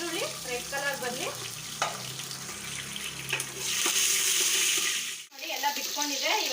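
Small onions and garlic fry in a pan with a steady, close sizzle and occasional stirring scrapes, briefly interrupted near the end.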